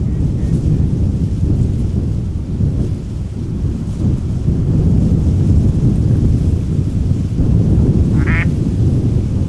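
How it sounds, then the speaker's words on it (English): A female duck quacks briefly outdoors beside an airport, a short call rising over heavy wind and a constant low rumble of background noise, with no one talking. "The little lady duck making some noise."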